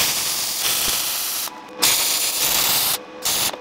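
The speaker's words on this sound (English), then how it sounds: "Just weld it." Welding on a DIY CNC laser cutter gantry part, a loud continuous crackling hiss in several long bursts broken by brief gaps, close up with no talking.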